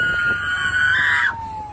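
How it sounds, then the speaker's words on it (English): A siren wails from approaching emergency vehicles, its tone rising, then dropping sharply near the end, moderately loud and heard over faint background noise with no talk. "You can hear the sirens coming."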